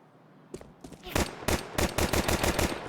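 Rapid automatic gunfire crackles in a Counter-Strike 2 pro match. Sparse shots open the clip, then tight, loud bursts repeat in quick succession through to the end.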